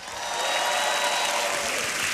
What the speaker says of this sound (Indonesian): tepuk tangan sekali lagi untuk Babe.